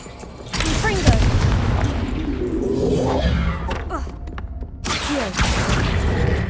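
A Confringo blasting spell exploding in the video game Hogwarts Legacy, a loud close burst followed by sustained rumbling, crackling debris and game effects, with a second blast near the end.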